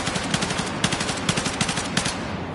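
Rapid automatic gunfire from the M277 carbine in Battlefield 6, a steady stream of sharp shots in quick bursts with brief gaps, loud and close with no talking.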